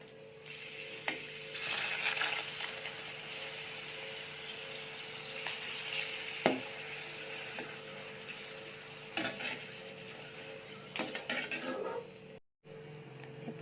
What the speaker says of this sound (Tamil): இப்போ இந்த பப்படத்தை பொரிச்சு எடுத்துடலாம்.